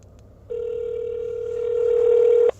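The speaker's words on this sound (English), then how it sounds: "Let's just give him another quick ring." A telephone rings out on a call with a single long, steady electronic tone that lasts about two seconds, swells slightly and then cuts off sharply.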